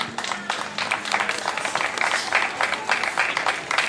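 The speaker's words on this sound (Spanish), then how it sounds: "darle un aplauso al Señor en esta noche" Church congregation applauding during an evening worship service, a dense patter of many hands clapping steadily for about four seconds, fairly close and full.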